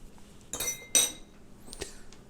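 A spoon clinking against a glass bowl while dry almond flour mix is stirred into cheese, two sharp, bright clinks close together followed by a softer tap, close by and with no voice.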